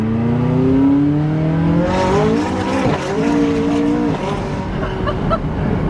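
A lowered McLaren 570S race car with new suspension accelerates hard, its engine note climbing loud and close through rapid gear changes with a brief squeal.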